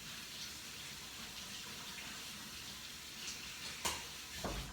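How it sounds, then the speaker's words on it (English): Tap water runs steadily over raw potatoes being rinsed to wash off starch, a low broadband wash heard alone with a couple of brief knocks near the end. "You rinse it until the water runs clear."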